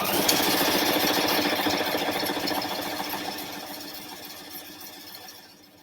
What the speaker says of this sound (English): I'm going to just go ahead and do just a satin stitch.